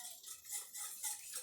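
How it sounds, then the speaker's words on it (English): Whisk scraping across the bottom of a pan of chowder thickened with flour, a faint rhythmic metallic scrape repeating a few times, close and alone. "I'm really scraping the bottom of the pan to make sure I get all the flour and all the sticky bits into my chowder."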